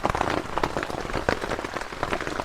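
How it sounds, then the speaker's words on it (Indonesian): Steady rain patters on a camping tent on an island at night, a dense crackle of drops at fairly even loudness with brief heavier bursts throughout, no voices. "hujan itu."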